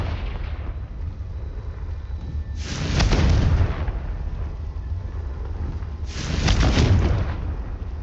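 Two booming, fiery blasts from a Confringo blasting spell in Hogwarts Legacy, each a loud broadband burst about three and a half seconds apart, rising over steady game ambience.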